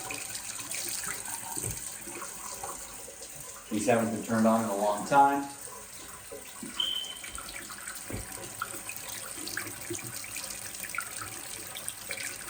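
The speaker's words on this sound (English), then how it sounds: "they're going to turn the sink on, okay? They're going to turn the hot water on" A kitchen sink's hot water tap, long unused, sputters on with a brief burst of running water that then settles to a faint trickle, under a man's speech.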